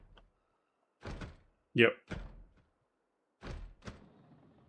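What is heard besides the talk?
zombies banging on a front door in video game Project Zomboid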